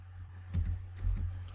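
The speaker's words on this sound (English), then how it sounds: "Select it and press Ctrl plus /." Computer keyboard keys pressed as a Ctrl plus slash shortcut, a few soft clicks close up in a quiet room, with no talking.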